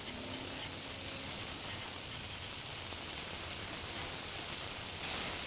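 A burger patty sizzles on a hot grill after being flipped, giving a steady, close, fairly quiet hiss of fat that holds evenly throughout and swells slightly near the end.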